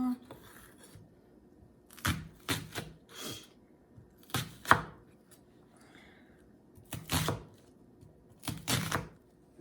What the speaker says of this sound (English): And then we're going to chop this up